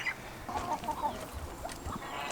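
Chickens cluck in a backyard flock that includes young chicks, a few short clucking bursts over steady outdoor background noise, fairly close and moderately loud.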